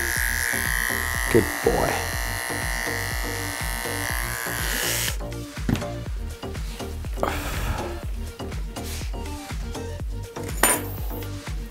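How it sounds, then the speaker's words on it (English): A small Arco electric clipper buzzes steadily while trimming the inside hair of a dog's ear during hand-stripping grooming, a continuous close motor hum with the pitch shifting partway through as it presses into the fur, under brief soft talk. "on your wee Arco clipper, just holding them flat in your fingers so that you don't clip it off or nick the ear"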